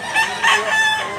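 A light bulik gamecock, a Cebu fighting rooster just over a year old, crows twice in quick succession, loud and close, with no talk over it.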